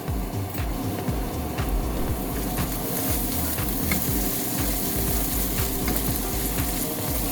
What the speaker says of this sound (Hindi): एबे लास्ट स्टेप ताको किछि मीट मसाला आउ अल्प किछि गरम मसाला दे ताको मिक्स कर दबा